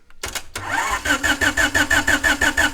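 A car with a freshly installed new motor cranks briefly, then catches and settles into a loud, rhythmic idle with a steady pulsing throb close by.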